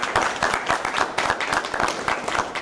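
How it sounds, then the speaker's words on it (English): A school board meeting audience gives a round of applause for a school district team, with close, loud, steady clapping from a small crowd throughout. "give you a round of applause"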